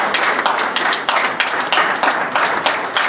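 Audience applause at a Rajasthan BJP state president's address, greeting the Prime Minister: dense, steady clapping from a crowd, loud and close, with a faint rhythmic pulse running through it and no talking.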